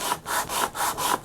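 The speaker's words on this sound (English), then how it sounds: "switch over to 80 grit sandpaper." 80-grit sandpaper on a sanding block scrapes back and forth on a custom guitar build in steady, even strokes, about six passes in quick rhythm, close and fairly quiet.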